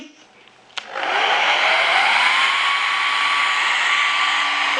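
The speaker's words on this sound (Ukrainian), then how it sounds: "Далі нам потрібно фен." A hair dryer clicks on and blows with a loud, steady whooshing whine that rises slightly in pitch and keeps running, used to melt wax into sneakers.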